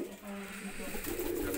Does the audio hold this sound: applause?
no